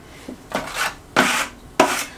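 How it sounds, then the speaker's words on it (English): Margin trowel pressing and scraping thin-set mortar down into a shower drain opening during linear drain prep, heard as about four short, close rasping strokes separated by brief pauses, with no talking. "just taking thin set on a margin trowel and I'm pushing it down into the opening here where the drain body will rest"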